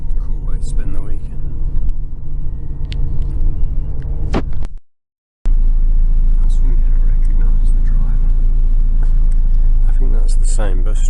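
Bus riding away from a ferry port, its engine giving a low steady rumble and hum with road noise, briefly dropping out before resuming, while people talk over it.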